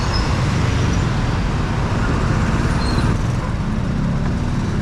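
Steady, loud roar of congested highway traffic, with cars, buses and trucks rumbling close by as a mountain bike threads between them. The noise is continuous, with no voices.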